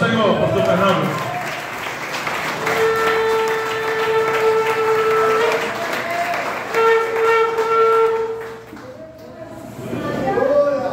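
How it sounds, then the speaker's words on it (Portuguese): A church congregation applauds steadily for several seconds, a full, sustained wash of clapping over held keyboard tones, with voices and music continuing as the clapping tapers off. "Aleluia, aplauda ao Senhor, pastor Fernando"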